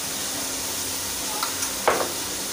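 Ginger-garlic paste, two spoonfuls, added to garlic cloves in a pan for beef yakhni pulao, sizzling with a steady low hiss and a brief louder crackle near the end, with no talking.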